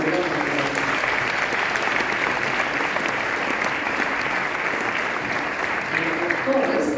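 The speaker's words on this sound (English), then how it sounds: "I think he deserves a big round of applause" Sustained audience applause at a Sadhu Vaswani Centre program, dense steady clapping from a crowd filling the whole stretch at an even level.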